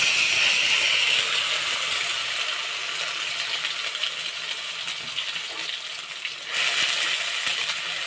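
Onion paste sizzles and fries steadily in a hot pan with bay leaf and garam masala for a restaurant-style masala paneer, giving a continuous close hiss with faint crackle.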